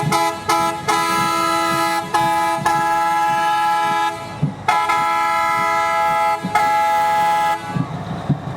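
Loud chorded horn on an antique beer barrel truck rolling in an Independence Day parade, sounding in long sustained blasts separated by brief pauses, very close and filling the scene over faint street noise.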